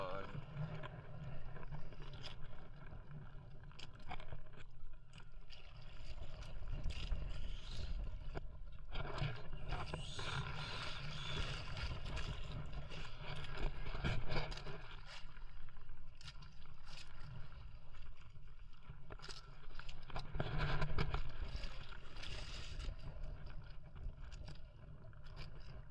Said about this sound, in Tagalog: Malakas ang hangin ngayon. Lalaki ng alon.